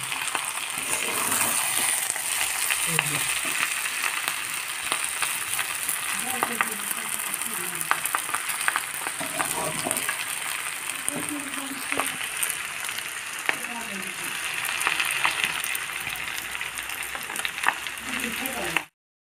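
Fish curry sizzles and fries in a pan as it is stirred and turned, a steady close crackle with occasional scraping, with faint speech at times.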